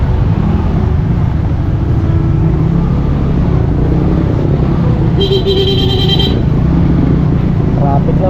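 Steady road traffic rumbles close by throughout, with a brief high-pitched tone partway through, while voices talk over it.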